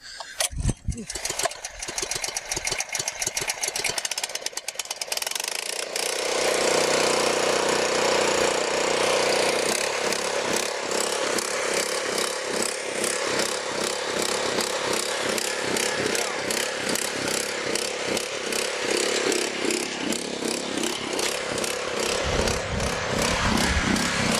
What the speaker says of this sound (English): So the pump is running